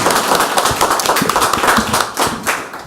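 An audience at a Korean political forum claps to welcome a speaker, a dense, close burst of applause that tapers off slightly toward the end.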